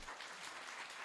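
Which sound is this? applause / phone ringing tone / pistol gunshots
applause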